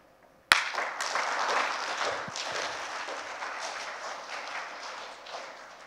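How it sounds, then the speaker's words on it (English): An audience at a design conference talk bursts into clapping, starting suddenly and holding as a dense, steady wash of applause that slowly thins over several seconds. "Now let's try to clap very strong from here"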